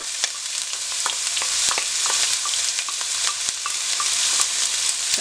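Onion sizzles in hot oil for Mexican chiles en nogada, a bright, steady crackling hiss scattered with small pops and light stirring clicks.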